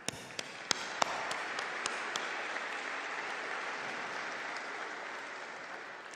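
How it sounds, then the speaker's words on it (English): Steady audience applause at a fall college commencement ceremony, honoring graduating seniors; a dense, even wash of clapping from a large crowd holding level for about six seconds, with a few sharper individual claps near the start. "Let us applaud the accomplishments of the graduating seniors from SRM program and department"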